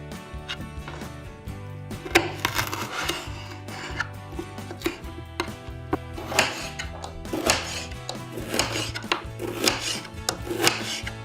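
Steady knife chopping on a cutting board, quick repeated strokes in an even rhythm, close and fairly loud, with no talking.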